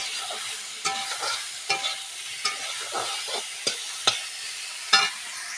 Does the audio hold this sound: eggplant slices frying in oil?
yes